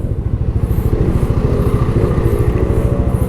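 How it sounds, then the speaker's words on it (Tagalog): A motorcycle engine runs steadily up close, its low chugging pulse loud and continuous with no talking. "mag-run lang yung motorsiklo mo"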